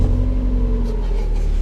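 The engine of a 1998 Mazda MX-5 Mk1 with an automatic gearbox runs close by, giving a smooth, steady low rumble that eases slightly over under two seconds, with no voices.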